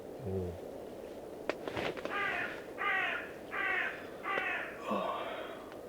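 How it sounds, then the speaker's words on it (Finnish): Crows caw in repeated bursts at a winter island campsite, five or so harsh calls spaced about a second apart, fairly near and loud over a quiet outdoor background with a few soft thumps. "Aamusta tuli joku ihme varisteen invaasio tänne."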